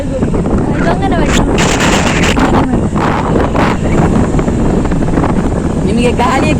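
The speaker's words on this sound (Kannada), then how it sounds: "ನಿಮಗೆ ಗಾಳಿಯ ಕೇಳಿಸ್ತುಂಟ ಗೊತ್ತಿಲ್ಲ." Outdoors in hilly, wooded countryside, wind blows hard into the microphone, making a loud, continuous rumbling buffet that does not let up.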